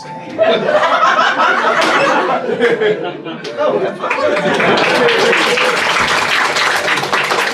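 A live audience at a comedy podcast recording claps and laughs, applause building into a dense patter of hands over the second half, mixed with chuckles and voices talking.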